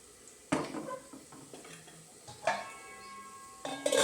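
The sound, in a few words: appam pan (kadai) being swirled by hand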